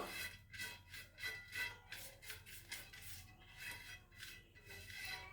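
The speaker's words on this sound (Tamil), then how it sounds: "இந்த மாதிரி ஃபுல் தோசை சட்டியை நம்ம வந்து இந்த மாதிரி ப்ரஷ் பண்ணிடலாம்." A brush scrubs across the surface of an iron dosa pan in steady back-and-forth strokes, a soft rhythmic rasping heard close and alone.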